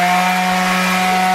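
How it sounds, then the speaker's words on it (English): A power sander runs on rough-cut ash lumber fitted with coarse 50 grit sandpaper, a loud continuous motor hum with steady gritty abrasion, heard alone and close. "I got some 50 grit sandpaper on here"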